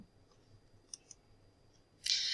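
A computer mouse clicks twice quietly and close, two small sharp ticks. A louder hiss-like burst follows.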